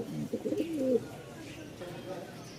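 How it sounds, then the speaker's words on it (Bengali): Two pairs of Rajshahi Giribaz pigeons coo softly and close by in a few short, low rolling calls, with quiet background noise and faint speech. "2 জোড়া কবুতর দেখতে পাচ্ছেন।"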